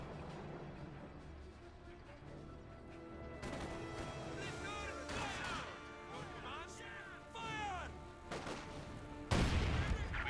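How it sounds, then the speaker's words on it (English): A landmine blows up during a Company of Heroes 2 match, part of a run of sharp explosive blasts and gunfire crackling through the battle, with a loud final boom near the end. "Landmine detonated there."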